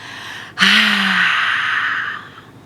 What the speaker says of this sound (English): With full force, I want you to open your mouth and blow out, exhale from your mouth.